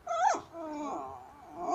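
A dog gives a short, close growl that rises into a whining yelp, followed by lower rumbling whimpers, fairly quiet and alone without talk.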